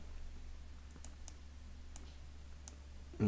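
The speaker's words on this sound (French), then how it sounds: "Je relâche mon clic de souris" Computer mouse clicks while configuring trading software, several sharp, sparse clicks spaced about a second apart over a quiet low hum, close to the microphone.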